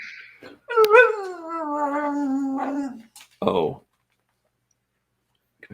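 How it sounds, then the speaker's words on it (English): A dog howls and whimpers for attention indoors, one long wavering howl followed by a short yip, fairly close and loud, with brief clicks around it. "You can hear a dog who needs some attention."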